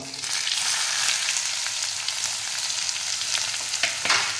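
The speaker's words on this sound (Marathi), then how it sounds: "कांदा चांगला भाजून घ्यायचा." Chopped onion and cumin frying in hot oil, a steady close sizzle that holds loud and even throughout with faint stirring scrapes.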